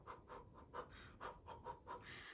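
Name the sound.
imitated panting breaths after surgery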